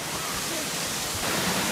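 Steady broadband roar of a large waterfall at the top of Big Falls on a foggy hike, a continuous rushing wash with no talk, swelling slightly louder toward the end.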